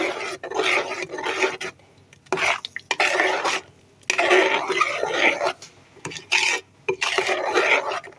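Spoon scraping and clanking against a pot while stirring tomato sauce with black pepper, spices, Maggi and salt, in bursts of rasping strokes separated by short pauses, close and fairly loud, no talking.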